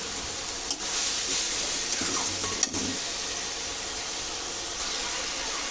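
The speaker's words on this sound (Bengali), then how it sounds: "এবার মশলাটা ভালো করে কষাই নেব" Spices for a dried fish curry being sautéed in a pan, a soft steady sizzle with occasional stirring scrapes and light clinks, close but quiet throughout.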